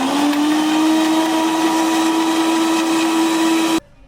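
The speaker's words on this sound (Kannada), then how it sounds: "ಇವಾಗ ಮಿಕ್ಸಿಗೆ ಹಾಕೋಣ." A kitchen mixer grinder whirs loudly and steadily as it blends a chocolate milkshake-style drink, its motor pitch rising slightly, then stopping abruptly near the end.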